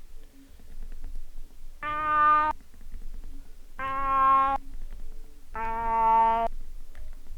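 Cat meow samples play as pitched notes on a Teenage Engineering PO-33 pocket sampler: three separate, evenly spaced, sustained meow tones, each about half a second long, over quiet background hiss.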